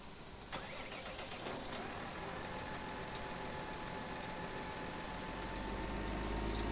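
A tractor engine in Farming Simulator 2013 starts with a short burst, then runs at a faint, even idle that swells slightly toward the end, with no talking.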